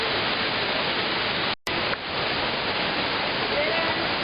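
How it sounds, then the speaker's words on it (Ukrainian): Steady, dense rushing of the Düden waterfall in Turkey fills the scene, loud and constant, broken only by a brief cut in the middle. "Ви, напевно, відчуваєте звук водоспадів."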